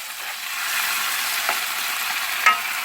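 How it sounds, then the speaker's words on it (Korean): Starchy pasta water hits a hot pan for a homemade aglio e olio, raising a steady broadband sizzle with brief sharper hisses and a small clink near the end, no talking. "그게 면수인데 한번 부어보겠습니다"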